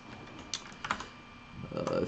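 A handful of computer keyboard keystrokes while code is written in the WebStorm editor, with scattered clicks, a quieter middle stretch and a denser burst of typing toward the end, close and moderately quiet.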